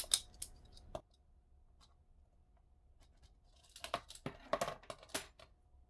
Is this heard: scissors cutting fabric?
yes